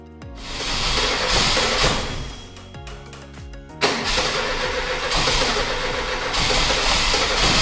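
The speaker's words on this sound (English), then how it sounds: "Here we show the first start of our AS1600 engine after the total overhaul." An overhauled AS1600 aircraft engine is cranked and starts, catching with a sharp burst and then running loud and steady at a rough idle, close by with no talk.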